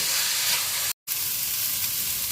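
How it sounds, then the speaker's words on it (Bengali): Chicken mince with spice powder frying in a pan while being stirred: a continuous, close, hissing sizzle, briefly cut by a sudden gap of silence. "জাস্ট 2 মিনিট এটাকে এভাবে নেড়ে চেড়ে আমি ভেজে নেব।"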